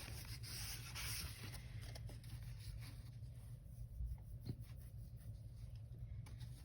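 Steady dry rubbing of a burnishing tool along a score line on paper card stock, a soft continuous scraping close by with a low background hum and no voices.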